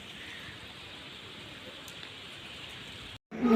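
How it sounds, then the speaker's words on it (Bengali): Heavy rain pours down in a steady, even hiss that holds at one level for several seconds before cutting off abruptly; no voices. "এখন কত জোরে বৃষ্টি নেমে গেছে।"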